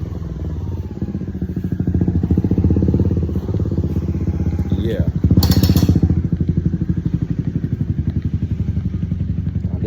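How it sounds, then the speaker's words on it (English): A motorcycle in need of some repair pulls up close by. Its engine chugs in a loud, rapid, steady idle and rises in a brief rev with clattering thumps before it settles back, while one person speaks briefly. "my homeboy pulling up with a motorcycle"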